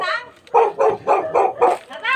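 A dog barks repeatedly at a neighbour's house with an open door, about five loud, close barks in a steady rhythm, with people talking around it.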